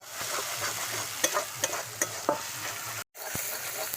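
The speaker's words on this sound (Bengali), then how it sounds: "একটু ভালো করে মশলাটা কষিয়ে নেব।" Ground chili and cumin spices stirred and fried in oil in a pan, a close, steady sizzle broken by scraping spoon strokes and clinks.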